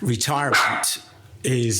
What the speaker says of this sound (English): that was the dog, by the way.